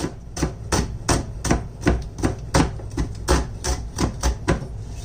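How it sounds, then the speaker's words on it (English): Rapid, steady knife chops on a cutting board, crisp and close, repeating in an even rhythm with no talking. "So let's get to chopping."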